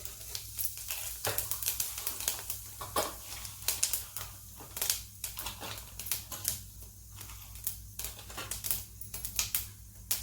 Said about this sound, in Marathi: तेल आपलं तापलेलं आहे याच्यामध्ये आपण हे जिरं घालत आहोत